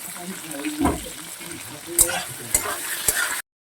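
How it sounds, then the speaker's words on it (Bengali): Soft frying hiss of onions in a pan with a few scraping stirs and clinks, fairly close, ending abruptly after a few seconds. "এখানে পেঁয়াজটা অনেকটা ভাজা হয়ে গেছে"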